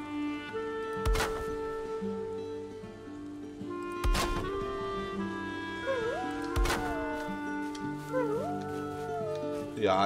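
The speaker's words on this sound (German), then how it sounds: "Ja, da kannst du jaulen, wie du willst." In the video game Valheim, a tamed wolf lets out a few drawn-out, rising and falling howls and whimpers, spaced several seconds apart over a steady game music backdrop.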